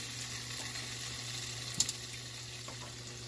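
Cheese melting and browning in its own oil in a frying pan, giving a soft, steady sizzle close by, with one brief clink partway through.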